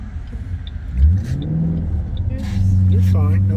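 A car engine revs up and drops back through a gear shift, its mid-pitched drone swelling midway, with people talking over it the whole time.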